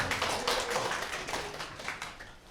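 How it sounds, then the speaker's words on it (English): A brief burst of applause at a spoken word poetry slam in a library, dense overlapping claps from a small crowd, fading slightly toward the end. "Round of applause for Ren."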